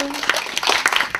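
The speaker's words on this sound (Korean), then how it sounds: "박수." A brief round of clapping from a small group of students in a classroom-style local history club session, a second or so of scattered, uneven claps.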